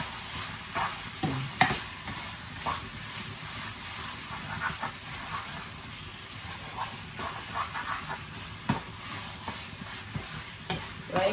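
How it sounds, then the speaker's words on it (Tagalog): Chicken seasoned with salt and pepper fries in a pan for a chicken mushroom stir fry, a steady close sizzle with scraping stir strokes and occasional louder clatters, no talking. "And then, fry natin ulit. Continue to fry until ma-change yung color niya, guys."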